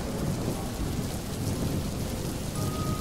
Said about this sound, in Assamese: বৰষুণ জাকো বিজুলীৰ সৈতে ঢেৰেকনিৰ সৈতে বেছিকৈ পৰিব ধৰিছিল